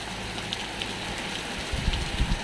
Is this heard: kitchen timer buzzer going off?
no